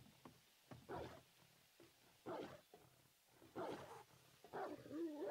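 Wild animal calls in the survival game 7 Days to Die, a vulture and a wolf giving several growling, snarling bursts at irregular intervals, faint and with no talk.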